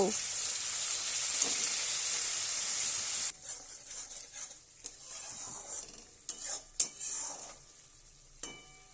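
Onion masala fries on a low flame in a pan, for a curd-and-fish curry. A loud, steady sizzle is heard first, then it drops to a quieter crackle as a spoon stirs with scattered clinks and scrapes against the pan.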